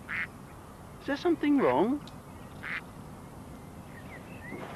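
A duck quacks in a short burst near the start and again later, amid a children's television scene with a voice speaking clearly in between, set against a soft outdoor hiss.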